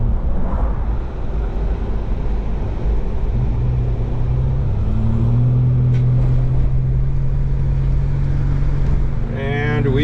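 A 1996 Mitsubishi Montero, sputtering and low on gas, drives along with a steady loud engine and road rumble, a rising engine hum midway, and brief speech near the end.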